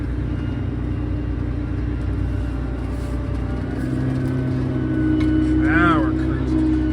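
A Fendt 1167 Vario MT tractor engine drones low and steady up close, rising slightly in pitch and loudness toward the end, with a voice briefly heard over it.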